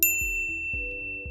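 A notification bell sound effect dings three or four times, bright, clean and close, each strike ringing out briefly before the next.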